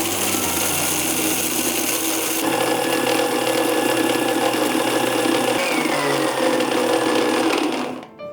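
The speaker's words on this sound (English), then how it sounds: "So let's grind it." Mixer grinder running steadily as it grinds cumin seeds and black peppercorns into a fine powder, a loud continuous motor whine with a shift in pitch partway through, cutting off at the end.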